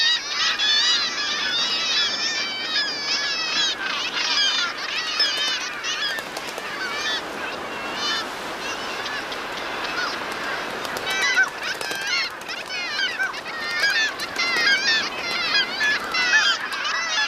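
Kittiwakes squabble on crowded cliff nesting ledges, a dense, continuous din of harsh, overlapping calls from many birds, loud and steady throughout.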